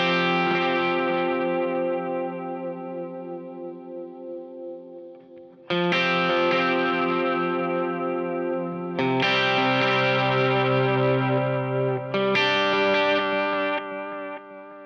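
Electric guitar through a Memory Man delay pedal, sustained distorted chords struck roughly every three seconds, each ringing out with repeating echoes that blur and trail behind it, no voices.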